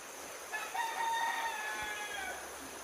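A rooster at a rural home in Sarangani Province gives one drawn-out crow at moderate distance, rising and holding before fading, over faint background noise.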